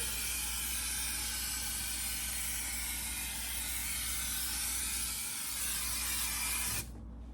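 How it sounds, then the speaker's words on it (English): Steady hiss of adhesive being sprayed onto headliner padding material in a 1972 VW Super Beetle, close and continuous for most of the clip before cutting off abruptly near the end. "Okay, now I gotta spray the material."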